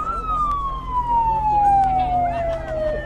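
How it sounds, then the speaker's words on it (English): A police siren wails nearby, one falling tone sweeping down clearly over low traffic rumble. "I was wondering why the police put a siren on when it's all over"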